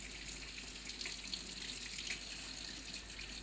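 Running tap water streams steadily as a Lipomatic liposuction handpiece is rinsed in clear water, a continuous close splashing hiss with small fluctuations and no voices.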